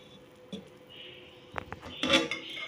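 Chicken biryani being gently mixed in a pot, with a few soft scrapes and a couple of sharp metallic clinks from the spoon against the vessel, set against a quiet background.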